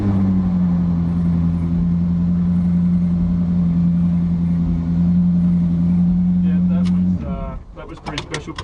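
A Ferrari driving with a passenger aboard gives a loud, steady engine drone throughout, then the sound cuts to a quieter stretch of clicks and rustles near the end.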